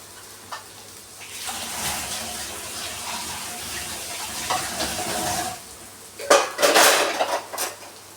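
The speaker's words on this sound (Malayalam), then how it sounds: "ഞാൻ അപ്പം എടുക്കുന്ന പാത്രങ്ങൾ കഴുകി വെക്കുന്നതുകൊണ്ട്" Appam vessels and pots being washed in a kitchen, with running tap water and clattering metal dishes and cutlery, a sustained wash growing louder toward the end with sharper clanks.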